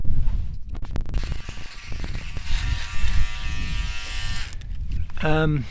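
Steady electric trimmer buzz running for several seconds with some talking over it, ending in a brief rising whine.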